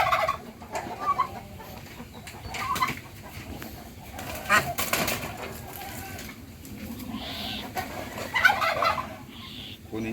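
Muscovy duck chicks being caught from a pen, with busy fowl peeping and clucking close by, bursts of flapping and shuffling, and brief human voices mixed in.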